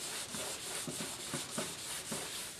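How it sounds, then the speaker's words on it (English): Sandpaper rubs over the dried clay coat of a homemade clayboard, a dry, gritty scrape repeated in steady back-and-forth strokes, close by and fairly quiet, with nobody talking. "I'm letting the sandpaper do the work."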